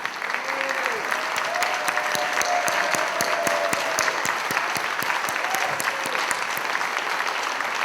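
Sustained applause from an audience at a Labour gathering as members stand to be recognised, dense steady clapping throughout with a brief tonal whistle-like sound early on.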